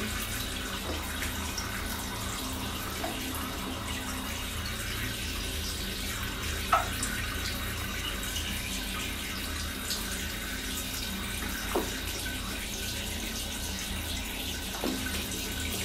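Warm tap water running steadily while cats are bathed, a soft continuous rushing stream at low volume with a few faint clinks and knocks scattered through.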